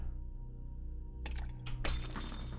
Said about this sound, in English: Maybe the broken glass?